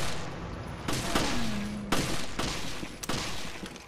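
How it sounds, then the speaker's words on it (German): Gunfire hits a fish zombie in the Wii U version of Resident Evil Revelations, four or five sharp shots spaced about a second apart, loud and close, with a ringing tone between them and no talking. "knallen wir den erstmal ab"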